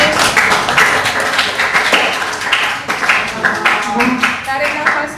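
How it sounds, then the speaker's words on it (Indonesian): A classroom group claps together in a teacher-training Indonesian language lesson, giving a dense run of close, bright claps that rise and fall in waves for several seconds, with voices mixed in. "tepuk tangan buat kalian semua"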